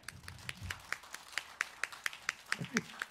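Audience claps for a live stage performer at a comedy show in Iwaki: a run of sharp, evenly spaced hand claps at moderate level, with faint low murmuring underneath.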